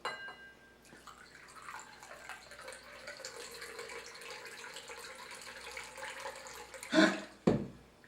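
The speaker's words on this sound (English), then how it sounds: "and then you pour your Cosmo" A Cosmopolitan cocktail is poured into a glass, a soft liquid trickle running for several seconds, followed by a couple of sharp glassy clinks near the end.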